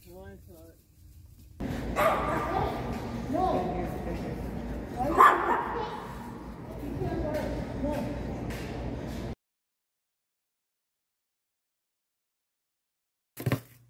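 A dog outside, brought in by its owner: yips, whimpers and barks mixed with people talking and shuffling movement, fairly close, followed by a long silence and one brief final sound.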